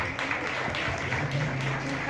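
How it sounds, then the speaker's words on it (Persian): Applause from an audience at the opening of a photowalk event in Iran, a soft, steady patter of clapping mixed with murmuring voices throughout. "تشویق کنید مجددا لطفا"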